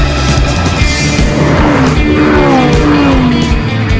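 A Ferrari 458 Spider convertible sports car arrives, its engine loud and close with a rising, revving note over constant road and wind roar.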